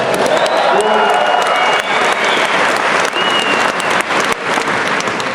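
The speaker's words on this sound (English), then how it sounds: "I feel like you guys will applaud anything pretty much." An auditorium crowd at a Jordan Peterson 12 Rules for Life tour lecture in Salt Lake breaks into sustained, loud, dense applause that continues without a break.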